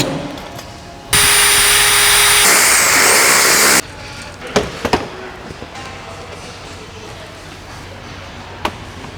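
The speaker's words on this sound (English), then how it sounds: "you can drill the hole a little bit higher so you're creating an elongated hole for the bolts to go through" A power drill whines loud and steady for about two and a half seconds while boring an elongated bolt hole in a washer for a Volkswagen Golf R MK7.5 front splitter install, followed by scattered knocks and clatter.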